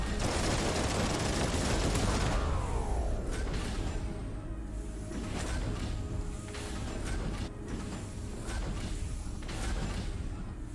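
Space-combat gunfire from a ship's weapons in Everspace 2: a loud, dense burst over the first couple of seconds, then scattered sharp shots and whooshes over a steady engine rumble.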